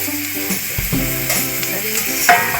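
Garlic sizzles and fries in a pan as an omelette is made, a steady close crackle with brief stirring scrapes throughout.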